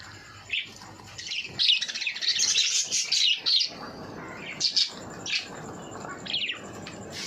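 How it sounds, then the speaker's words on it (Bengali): Several small pet birds chirp and tweet in quick bursts close by, overlapping calls rising and falling over a quiet background. "আজকে এখানে কিছু পাখি আছে"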